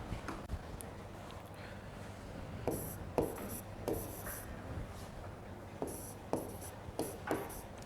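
Chalk or marker writing on a lecture-hall board, short scratchy strokes coming in irregular bursts, near and fairly quiet over faint room hum, with no talking.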